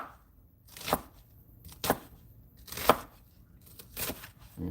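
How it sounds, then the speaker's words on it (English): A knife chops strips of food on a cutting board, with four sharp, distinct chops spaced roughly a second apart, close and clear with no talking. "Go ahead and start my little chopping."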